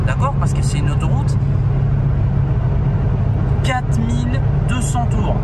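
A car's loud, steady engine drone while driving at 130 km/h on a motorway, a constant low rumble filling the cabin as someone talks over it.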